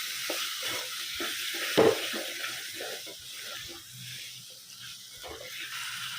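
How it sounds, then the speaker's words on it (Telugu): Chicken pieces with potatoes and spices are stirred in a pan over a high flame, giving a soft, close sizzle with intermittent scraping and one sharp clatter partway through. "హై ఫ్లేమ్లో ఈవెన్గా ఈ మసాలాలు మిక్స్ చేసేసుకుందాం ఫ్రెండ్స్."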